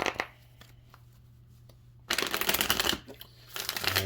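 Tarot cards shuffled in two loud bursts of riffling, the second running about a second and a half and another starting near the end, with quiet handling and soft taps between.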